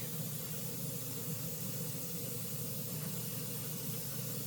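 Tamiya light gunmetal spray paint laid on in a heavy coat, a steady unbroken hiss of spray at close range that holds at an even level throughout with no pauses.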